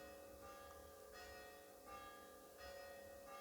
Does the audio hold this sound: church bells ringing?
yes